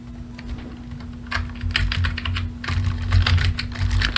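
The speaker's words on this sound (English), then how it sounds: "And just type in some text here." Steady typing on a computer keyboard, a dense run of close, crisp key clicks that thickens after the first second and carries on with an even rhythm, over a low constant hum.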